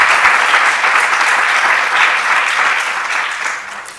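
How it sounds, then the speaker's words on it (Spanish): An audience at a talk applauds loudly and steadily, dense clapping filling the whole stretch and tapering slightly at the end, with no speech over it. "yo les pido un aplauso para este equipo maravilloso"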